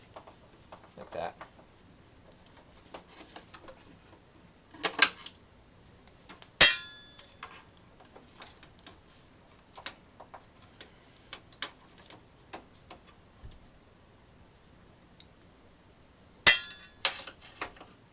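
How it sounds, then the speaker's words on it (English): Small metal ticks, clicks and clinks come from screws being turned out of the laser scanner inside a LaserJet 2200DN printer. The sounds are sparse and irregular in a quiet room, with a few sharper clacks. "Now we can unscrew the laser scanner. There's 4 screws, like that."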